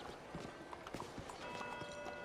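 Horse hooves clip-clop steadily in a video game, moderately near, with ambient game sounds and other noise layered underneath.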